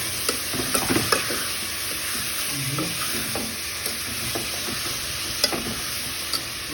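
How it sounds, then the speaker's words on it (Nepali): Potatoes fry in a pan for a home-cooked Maggi noodle dish, giving a soft steady sizzle with occasional scrapes and clinks of stirring, close and moderately quiet, with no talking. "आलु पनि फ्राई भइसक्यो।"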